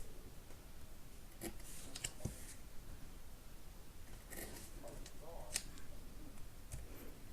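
Scissors snip through duct tape for a handmade wallet, a few quick dry cuts and clicks spread across a quiet tabletop scene with faint background noise.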